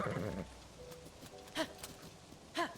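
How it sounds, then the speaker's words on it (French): A horse in the video game Zelda Tears of the Kingdom gives two short neighs over steady game background sound, with soft hoof clops and a brief voice at the start. "Je sais pas si je dois laisser mon cheval ici. Il est encore là"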